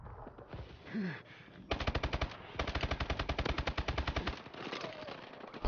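Rapid bursts of automatic machine gun fire in the video game Call of Duty: Advanced Warfare, loud rhythmic volleys of repeated shots in two strings, preceded by softer game sounds.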